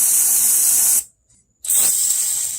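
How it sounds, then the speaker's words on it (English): A steady hissing spray from an aerosol can of penetrating oil onto car bolts runs for a second, pauses briefly, then resumes with a second long burst, loud and close. "So I'm going to go ahead and spray all 4 with some brake loose."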